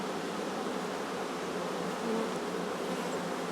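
Honeybees buzz steadily around an open hive during work on a new colony split, a dense, continuous drone that holds close and even throughout with no voices.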